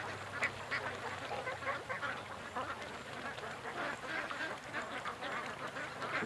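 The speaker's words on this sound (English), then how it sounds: "The ducks are a little bit freaked out there." Ducks quack in a busy, overlapping chorus on a lake where geese are also swimming, the calls steady and moderately near against a constant outdoor background.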